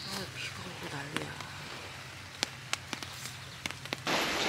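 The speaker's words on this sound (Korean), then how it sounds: "아, 비가 오고 난리야." Rain falls steadily on the seaside during a yacht and backpacking trip to Oedaldo island near Mokpo, a constant hiss under people talking, with scattered sharp drops and a heavier burst of rain noise at the end.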